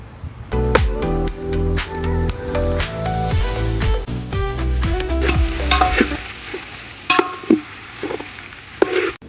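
Poha tipped into a pan of frying potatoes for Gujarati batata poha and stirred, with close sizzling, scraping of a spoon against the pan and a few sharp clinks, busiest at first and then easing.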